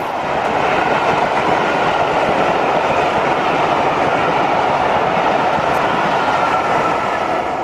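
Class 90 electric locomotive 90021 hauling a charter train from King's Cross toward Edinburgh, a loud, steady rolling roar of the train passing close by without a break.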